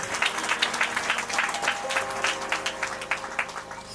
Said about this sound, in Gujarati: તાળીઓના ગગડાથી આપણે વધાવી દઈશું.